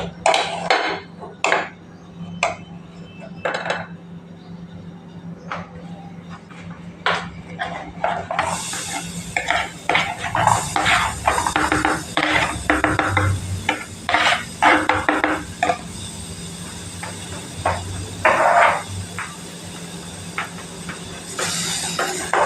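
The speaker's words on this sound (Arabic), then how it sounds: "بحط معلقة سمنة عشان أقلي البصلة" Ghee sizzles steadily in a pan as onion fries, with frequent clinks and scrapes of a utensil against metal throughout.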